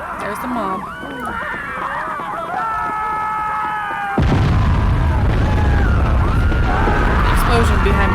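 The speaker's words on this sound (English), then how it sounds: "Explosion behind my building." In the video game Beholder, an explosion goes off behind a building, a sudden loud blast halfway through that swells into a heavy, sustained rumble, replacing the quieter tonal game music heard before it.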